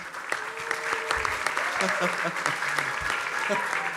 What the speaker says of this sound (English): Give applause for Pak Anang